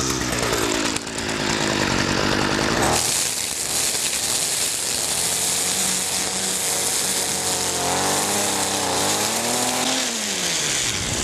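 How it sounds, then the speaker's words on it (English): A gas weed whacker engine, being started up in a garden for shredding compost material, roars loudly after an initial whine, its pitch rising and falling as the throttle revs up and down. "let's see if we can get our weed whacker started up here"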